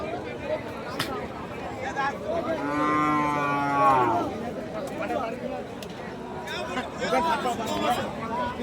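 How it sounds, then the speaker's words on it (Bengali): Cattle at a cow market selling thin, bony dairy cows, with one loud drawn-out moo rising near the middle amid crowd chatter and someone talking over the market noise. "এই সুন্দর সুন্দর হাড্ডিসার গাভী গরুগুলি"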